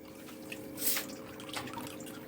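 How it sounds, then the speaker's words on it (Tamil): Cooking oil is poured into a frying pan for a short, quiet trickle and splash of liquid with a soft drip-like patter, lasting about two seconds. "இப்போ இதை வந்து ஃப்ரை பண்ணுறதுக்கு தேவையான அளவு எண்ணெய் ஊற்றிக்கலாம்"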